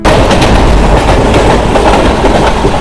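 A Santragachi–Digha passenger train rumbles loudly and steadily close by, with dense wheel clatter over the rails and no voices.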